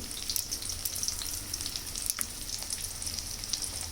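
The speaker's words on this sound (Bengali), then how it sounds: "এখন আমি লাল লাল করে ভেজে নেব।" Cauliflower fritters coated in gram flour and rice flour shallow-frying in hot oil, a steady soft sizzle with faint crackles and occasional small pops, quiet and continuous with no talk.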